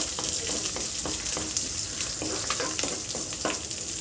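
Shallots and curry leaves sauté in a pan for a Tamil drumstick-leaf curry, a steady close sizzle with scattered crackles and stirring scrapes running through, no talking.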